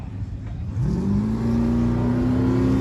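A 2001 Honda S2000 and a 2JZ-swapped Camaro rev at a drag strip, with a steady engine hum rising into a loud, sustained held rev that stays high and even until the end.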